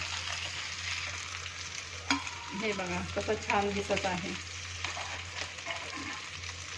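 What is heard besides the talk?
fish frying in oil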